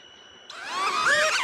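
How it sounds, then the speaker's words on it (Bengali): A small DJI Neo drone lifts off and flies, its propellers starting abruptly into a bright, rising whine that grows louder and steadier over about a second, heard close with no talking. "ড্রোনটা ফ্লাই করে ফেলেছে।"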